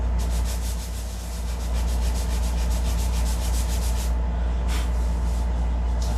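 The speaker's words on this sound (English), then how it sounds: "I think this is 220 grit sandpaper that I'm using right now. So you can see it takes that cedar down fairly quick." Cedar wood sanded by hand with 220 grit sandpaper, heard as a close, loud, rapid run of rhythmic rasping strokes over a steady low hum, pausing briefly near the end.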